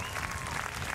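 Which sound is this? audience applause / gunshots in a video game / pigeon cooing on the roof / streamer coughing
audience applause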